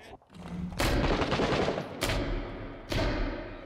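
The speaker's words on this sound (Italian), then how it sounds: "Senti che rumore che fa la pistola qua dentro" Pistol gunfire echoing indoors in a co-op first-person shooter video game, several loud sharp shots with booming reverberant tails, spaced about a second apart.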